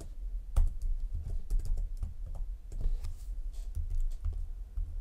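Computer keyboard being typed on during PowerShell coding, with irregular bursts of close, soft clacking keystrokes and no talking.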